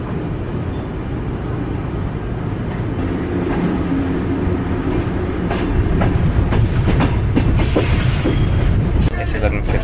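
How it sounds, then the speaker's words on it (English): Loud, steady rumble of a train departing Kutaisi for Tbilisi, Georgia, with rhythmic clacking and occasional squeaks building toward the end; some voices are faintly heard. "Train has left bang on time."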